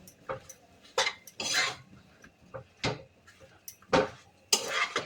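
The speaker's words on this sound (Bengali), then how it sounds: "এবার এটা ভালো করে মিশিয়ে দিই" A spoon stirs ground coriander, cumin and turmeric into an oil-free taro stolon curry, giving a series of close metallic clinks and scrapes against the pan with short pauses between.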